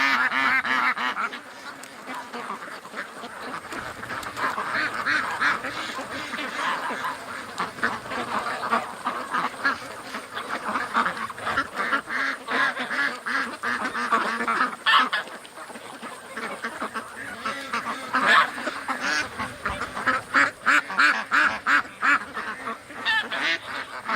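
Ducks quack and honk near a dock, a busy, continuous flock chorus at moderate distance with overlapping calls throughout, no speech heard.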